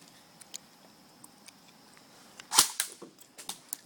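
KingArms M4 airsoft rifle firing, sharp snapping shots, a louder cluster near the end among faint scattered ticks, quiet and close.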